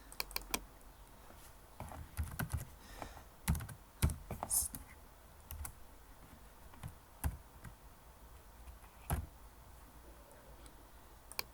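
Keys clatter on a computer keyboard while Turkish text is entered for a poster design, with scattered individual clicks and short quick bursts, close and fairly quiet, no talking.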